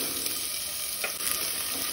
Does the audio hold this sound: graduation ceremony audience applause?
no